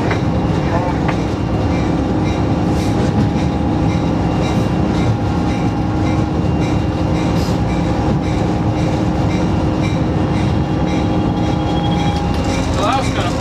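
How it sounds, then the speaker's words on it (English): A 1993 Amtrak California Zephyr train switching tracks, heard from aboard as a loud, steady rumble of wheels and railcars with faint clatter throughout, and people talking now and then over the noise. "we're going to switch tracks."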